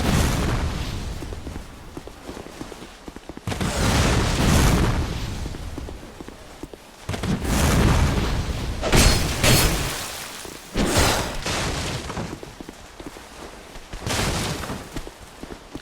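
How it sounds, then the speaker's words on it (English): Barrels detonating in the video game Dark Souls II: SotFS, giving several loud, broad booming bursts at irregular intervals over a dense, noisy game soundscape. "these barrels, they swing and they will just detonate them"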